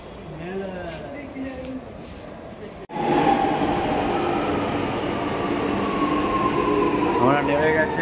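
A metro train in south India rumbles and hisses steadily, growing suddenly louder partway through and staying loud, with people talking over the ride.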